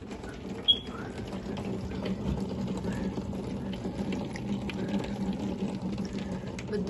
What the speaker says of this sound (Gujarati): આજે તો એકદમ વરસાદ, એટલે બહુ વરસાદ।